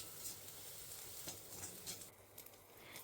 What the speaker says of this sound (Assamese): এতিয়া ইয়াত মই পিঁয়াজখিনি প্ৰথমে ভাজি ল'ম